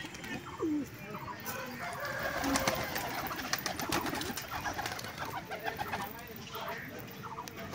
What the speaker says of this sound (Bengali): তো বন্ধুরা চলো, আমি খাওয়া দিই পায়রাগুলোকে।